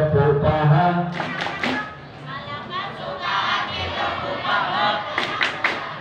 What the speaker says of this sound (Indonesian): Kalau kau suka hati, tepuk paha.